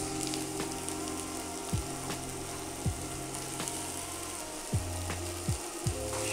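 Carrots and peppers frying in a pan hiss with a soft, constant sizzle, broken by several scraping strokes as they are stirred at irregular intervals, fairly quiet and with no talking.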